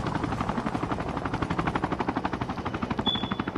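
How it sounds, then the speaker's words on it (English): A helicopter in the Call of Duty Mobile video game beats steadily with fast rhythmic rotor pulses, moderately loud, alone without talk. "There's a helicopter, and I can't wait not to get killed from it."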